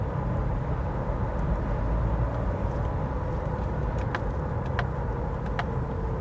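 A 2020 Honda CR-V Hybrid Touring AWD cruising on its electric motor, a steady low hum of road and tire noise inside the cabin with a few faint clicks, smooth and unbroken throughout.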